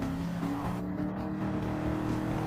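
Race car engine in Gran Turismo 7 accelerating steadily with a continuous droning tone and rising harmonics, loud and close, with no voices over it.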